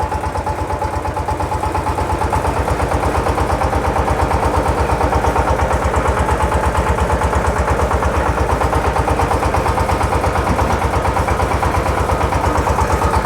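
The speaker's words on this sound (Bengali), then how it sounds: "একেবারে নতুন সাউন্ড এ সাউন্ড দেখার কোনো কিছু নাই নতুন মেশিন স্টার্ট দেওয়া আর এটা একই কথা" A reconditioned diesel engine runs steadily after starting, a loud, even chugging idle with a fast regular pulse, close up and alone throughout.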